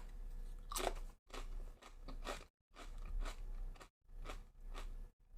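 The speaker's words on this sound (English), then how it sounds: "They are kettle chips, so they're very, very crunchy." Ketchup-flavored kettle chips crunch loudly in a series of close, sharp bites and chewing bursts, separated by brief pauses, with no talking.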